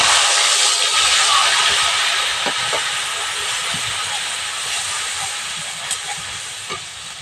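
Mixed spice paste hitting hot oil in a pan already holding bay leaf and five-spice seeds, a loud continuous sizzling hiss that slowly fades, with a few small clicks and stirring sounds.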